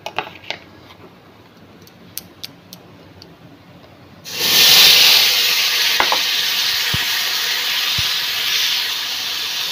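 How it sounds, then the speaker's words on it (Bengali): Whole cumin and whole garam masala hit hot oil in a wok, starting a loud sudden sizzle partway through that holds as a steady hiss with a few ticks, after quieter kitchen sounds and no talk. "এবার কড়াইতে দিয়ে দিয়েছি গোটা জিরে আর গোটা গরম মশলা"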